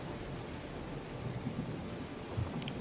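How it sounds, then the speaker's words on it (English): Distant thunder rolls as a low, steady rumble under a wash of rain, with a faint crackle near the end and no voices. "Distant thunder roars, flashes of violet lightning."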